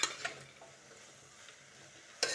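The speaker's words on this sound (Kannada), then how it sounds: "ಒಂದು 5 ನಿಮಿಷ ಹೀಗೆ ಫ್ರೈ ಮಾಡಿಕೊಳ್ಳುವ" Soya chunks and pulao ingredients are stir-fried in a pan, with a quiet, steady sizzle and a few scraping stirs, plus a louder burst of clatter at the very end.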